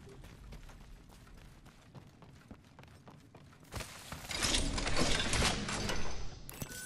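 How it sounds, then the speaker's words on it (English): A care package dropping in the video game Apex Legends, heard first as rapid ticking mechanical clicks, then swelling into a louder whooshing, rumbling descent that peaks and holds before cutting off. "There's a care package coming down."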